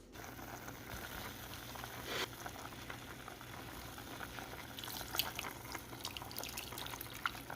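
A pot of water with potatoes and a ham bone boils on a stovetop, lid partly off, giving a steady close bubbling simmer with occasional sharper pops and clinks.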